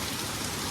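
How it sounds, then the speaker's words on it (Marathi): Heavy rain pours steadily outside a home in Thane, a dense, even wash of hiss with no pauses, close and fairly loud throughout the short stretch. "बेकार पाऊस पडतो यार"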